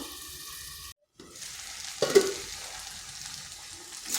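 Potatoes and pointed gourd fry in a pan, a steady close sizzle with a short silent gap and a burst of louder crackling as the pieces are stirred.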